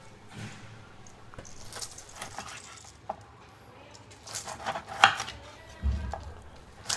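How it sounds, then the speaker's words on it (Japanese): A knife slicing through grilled pork spareribs between the bones, giving several separate cutting and knocking sounds against a board, with a few sharper taps and a low thump near the end, close and fairly quiet. "まずお肉の方、骨と骨の間から切っていきます。"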